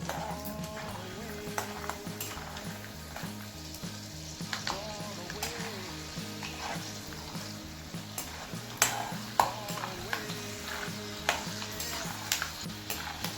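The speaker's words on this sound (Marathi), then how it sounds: "तर आपले शेंगदाणे असे मस्तपैकी लालसर खमंग असे तळून घ्यायचे तेलामध्ये." Peanuts fry in oil in a pan for a vegetable curry, giving a steady sizzle with occasional stirring clinks and taps, heard up close with no talking.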